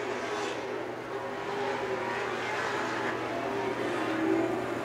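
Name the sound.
Pro Stock race cars racing at Seekonk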